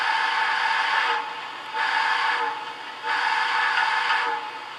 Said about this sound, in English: F2, your whistle or horn.